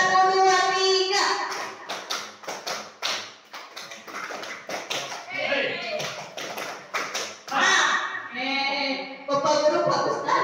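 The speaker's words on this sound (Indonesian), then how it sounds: "Tepuk satu, dua, tiga." Children in a classroom clap in short, sharp bursts alongside chanted counting, with rhythmic taps separated by brief pauses and voices speaking throughout.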